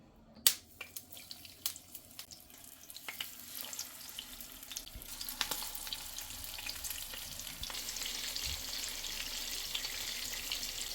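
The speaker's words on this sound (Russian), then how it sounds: "В раскаленную сковороду с растительным маслом кладем котлетки." Zucchini cutlets are laid into a hot pan with vegetable oil, a few sharp sizzles at first, then a soft crackling fry that builds into a steady hiss, with no talking.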